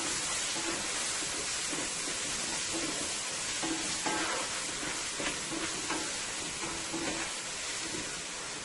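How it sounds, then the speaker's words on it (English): Liver and gizzard pieces, seasoned with black pepper and vegetable bouillon, sizzle steadily in a hot pan, a dense continuous crackle and hiss with faint stirring clinks, no voices. "It's frying up nicely there."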